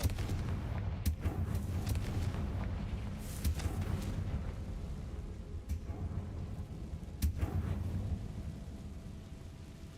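Fiery blast spell effects in the game Hogwarts Legacy: several sharp, booming explosions over a deep, rumbling low-end bed, spaced a few seconds apart and fairly loud, without talking.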